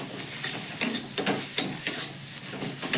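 A homemade roasted spice mix is stirred in a hot pan. A soft, steady sizzle runs throughout, and about eight sharp spoon scrapes and taps recur irregularly against the pan's surface. No one speaks.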